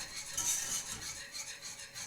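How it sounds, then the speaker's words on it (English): White cheddar and Parmesan are whisked into a cheese sauce in a pan, making a continuous soft, close scraping and swishing with a faint metallic tick of the whisk, unbroken by talk. "we're just gonna whisk it together until it's nice and smooth"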